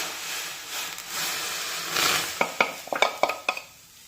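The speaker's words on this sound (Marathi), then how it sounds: "पटापट मिक्स करून घेऊया।" Rice flour is mixed into boiling water in a pot over low heat for chakli dough, with a soft hiss followed by a quick run of sharp spoon clacks and scrapes against the pot.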